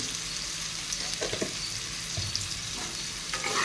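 Potatoes frying in a pan with turmeric powder and salt give a steady, dense sizzle that holds at an even level throughout, close up, with faint stirring bumps and no speech.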